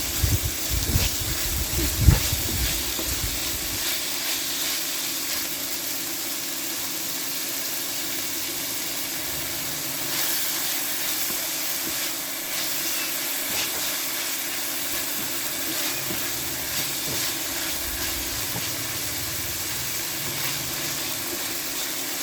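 Ground pork sautéing in a pan, a continuous loud sizzling hiss with occasional faint clinks and stirring scrapes throughout.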